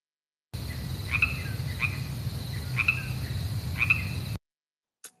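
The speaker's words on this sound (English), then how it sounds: "Crickets in the chat again, guys." Crickets chirping as an inserted sound effect: a steady, dense insect trill with a few brighter chirps over a noisy background, starting and stopping abruptly.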